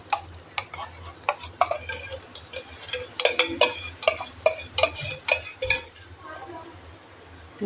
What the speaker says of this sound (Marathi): आता आपण ह्याच्यामध्ये हा आमरस टाकून घ्यायचं आहे